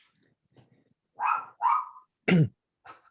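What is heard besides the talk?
dog barking during online meeting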